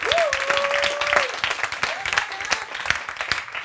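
A church congregation claps and applauds during a Sunday service, a dense wash of hand claps over a singing or shouting voice, steady and loud throughout.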